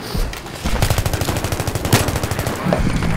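Rapid automatic gunfire in Battlefield 3, with dense, rhythmic bursts of shots that carry loud and close throughout.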